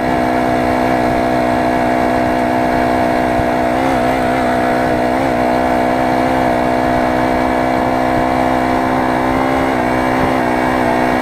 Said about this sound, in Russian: Работает он, кстати, намного тише, чем двухтактник, даже вот на таких оборотах.